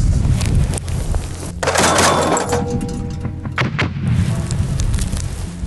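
A single loud artillery gunshot booms out, followed by a rumbling echo that fades against steady outdoor background noise.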